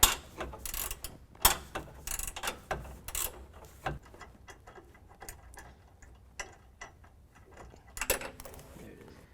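A ratchet works loose the 13mm bolts holding the rear bumper to the hitch receiver on a 2017 Chevrolet Silverado 2500HD, giving quiet bursts of clicking with metallic knocks and pauses between.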